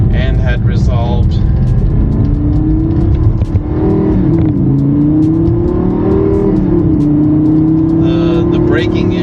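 Lamborghini driven along a dusty road: a loud engine rumble that rises and swells as it revs, then settles into a steady drone with road and wind noise.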